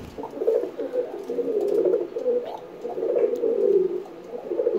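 Pet pigeons coo in low, throaty, rolling calls during a mating display, swelling and fading repeatedly, close by and continuous, with no talking.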